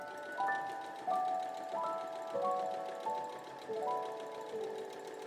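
A domestic sewing machine stitches scrappy patchwork fabric pieces, running in short whirring bursts with a rising hum and brief pauses between seams, fairly close and with no speech.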